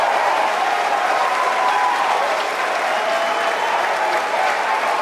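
Loud, dense applause and cheering from a large crowd at the ORBCOMM 2 rocket launch, steady and continuous throughout with no break.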